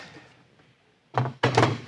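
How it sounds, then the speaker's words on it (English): A wooden drawer box drops onto metal drawer glides and snaps forward into place, two close, solid thunks after a moment of quiet. "Drop your drawer box right in, snap them forward."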